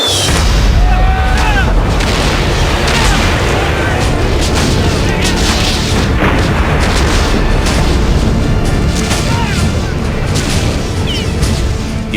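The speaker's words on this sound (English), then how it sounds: "On April 12, 1861, the Confederates opened fire." Cannon fire at Fort Sumter in April 1861 rolls as a dense, continuous barrage of heavy booms and blasts, loud and unbroken throughout.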